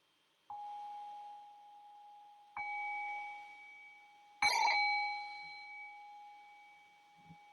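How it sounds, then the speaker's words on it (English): Three separate strikes of a meditation bell, each a clear ringing tone that sustains and slowly fades, the third brighter and sharper, in a quiet room with no talking. "I'll ring the bell here"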